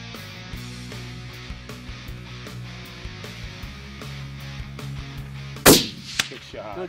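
Long-range rifle fire at groundhogs: two sharp, loud cracks close together near the end, heard over a steady low droning hum and faint background clatter.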